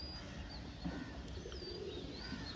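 Pigeons kept at a bird market give low, rolling coos. Thin whistling chirps drift in and out at a soft level, and there is no talking.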